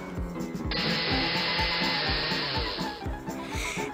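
A kitchen blender whirs through strawberries, banana, sugar and milk, its motor starting up with a sudden steady high whine over rhythmic chopping pulses, running for a few seconds before easing off.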